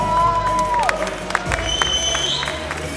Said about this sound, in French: on remercie, on applaudit bien fort.